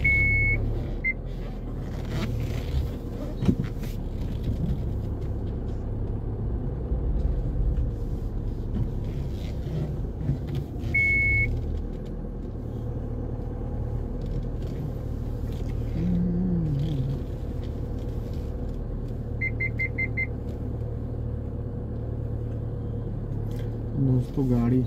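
A car maneuvering into a spot in a hotel club house parking lot in Gurgaon, with a steady low engine rumble throughout, a few short reversing-style beeps, and people talking over it.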